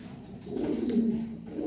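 A male pigeon coos while courting a female, a single low throaty coo rising and fading over a second or so, close and faint, without talk.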